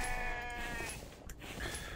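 Sheep in The Infected survival video game bleat loudly and close by, with one long wavering bleat followed by shorter cries against a noisy game background.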